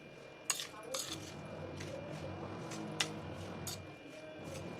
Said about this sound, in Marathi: आता आपला तयार केलेला कैरीचा किस यामध्ये सगळा घ्यायचा असा मोकळा करून टाकायचा आणि छान मिक्स करायचं